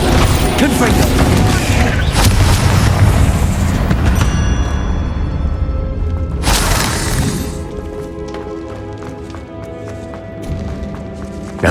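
Loud, dense spell blasts and crashing impacts from Hogwarts Legacy gameplay on Xbox Series X, a continuous roar of booms and shattering that eases into a ringing, echoing tail.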